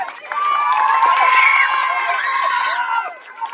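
Crowd at a school cross-country race cheering and shouting for a runner, many voices at once, sustained and fairly loud, with children's shouts and whistles mixed in before fading near the end.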